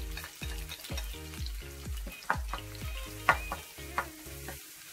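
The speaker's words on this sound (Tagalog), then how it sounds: "pag nag-saute kayo, unahin nyo yung onion." Onion and garlic sautéing in a pan, a close steady sizzle broken by rhythmic stirring strokes scraping the pan, with no speech.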